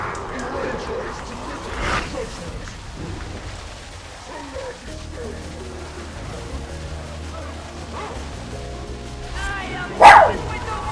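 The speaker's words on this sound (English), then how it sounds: "Love the dog barking when I'm trying to focus." A dog barks a few times in the background during a Smite gaming session, with a sharp, louder yelp near the end and talking over a rumbly room.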